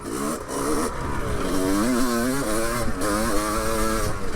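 A 47-year-old two-stroke motorcycle being ridden, its engine droning loud and continuous throughout with rising and falling revs as the throttle changes, close to the rider.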